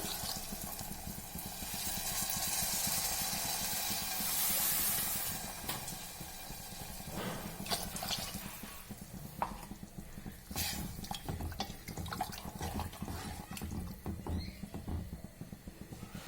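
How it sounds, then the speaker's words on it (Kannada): A pot of tomato gravy bubbles and simmers quietly with a soft steady hiss and scattered small pops and gurgles, no voices present. "ಚೆನ್ನಾಗಿ ಕುದೀತಾ ಇದೆ"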